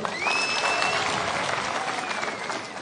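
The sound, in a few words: crowd applause at rally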